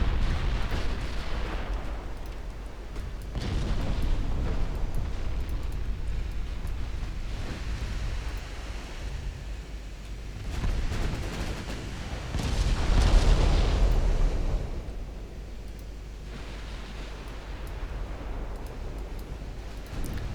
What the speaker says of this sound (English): I think your torpedoes just got blown up